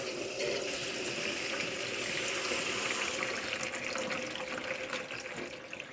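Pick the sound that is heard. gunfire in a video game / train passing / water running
water running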